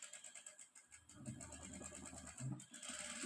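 Sewing machine running in reverse while stitching, a soft continuous mechanical whir with faint periodic ticking and low thumps, fairly quiet and close.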